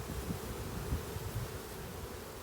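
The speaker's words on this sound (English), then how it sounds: "they are not happy bees" Swarm of unsettled honey bees taken from a new nest at an airport, a dense continuous buzzing drone that is close and steady with no voices.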